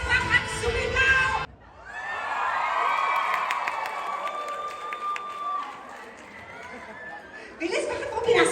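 Concert audience in Seoul cheering, shouting and clapping for a comedian-singer, a loud sustained crowd roar lasting several seconds between stretches of an announcer talking.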